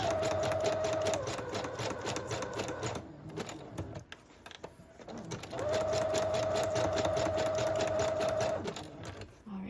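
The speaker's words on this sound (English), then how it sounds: "now I'll just sew around the 3 edges, keeping that top open" Sewing machine stitching around three edges of a paper pouch made from scraps, a steady fast whirring run, a pause, then a second long stitching burst, close and fairly loud.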